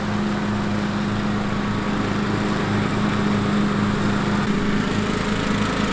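A riding lawn mower's engine runs steadily and close by, a continuous droning rumble with a constant pitch that stays loud and unbroken, with no voices over it.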